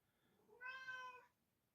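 A cat gives a single clear meow, drawn out for about half a second, close and alone in a quiet indoor setting.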